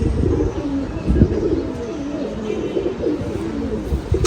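A pigeon of Kamagar bloodline, a tournament flying bird, coos in continuous low, rolling murmurs, close and moderately loud, with faint rustle underneath.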